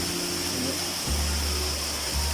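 Pa Wai waterfall, a large cascade of red-tinted water spilling gently down rock, gives a steady broad rushing wash with a low rumble that swells slightly partway through, close and continuous without speech.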